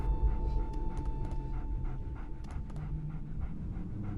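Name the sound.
assassin dog panting in a Game of Thrones video game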